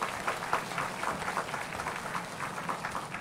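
An audience at a Buddhist teaching session claps, a faint, dense patter of many hands that continues evenly for a few seconds without anyone speaking over it.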